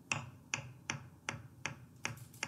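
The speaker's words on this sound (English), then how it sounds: "It sounds somebody clapping though." A crisp clap-like sample in a beat-making session strikes seven times at an even pace, each hit sharp and close with a quick decay, no voices over it.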